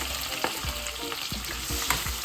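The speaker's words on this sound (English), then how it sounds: "So let's put some onions in it. Fry up some onions." Onions and spring onions sizzling in a frying pan for saltfish and cabbage, a steady close crackle broken by a few soft clicks as the pan is stirred, with no speech.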